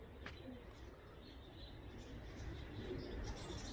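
Carrier pigeons coo softly inside a loft, their low calls faint against steady background noise.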